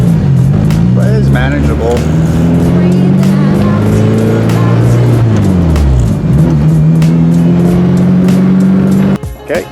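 A car engine surges unevenly while idling at a stop sign, its loud drone rising and falling in pitch over several seconds, close up inside the cabin with someone speaking briefly over it.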